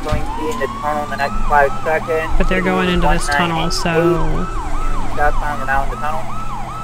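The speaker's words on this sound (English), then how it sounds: "It might help if I turn the siren on, you know." A police Tahoe siren in a GTA roleplay video game wails continuously in fast rising and falling sweeps, close and loud, while someone talks over it.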